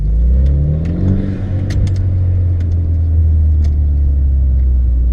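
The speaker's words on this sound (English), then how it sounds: "give the gas a little press and then let go as the RPMs are going down, it'll burble." A BMW 428i engine rumbles low and steady nearby in Sport Plus mode, revving slightly, with a few sharp crackling pops and burbles from the exhaust scattered over the drone as revs drop.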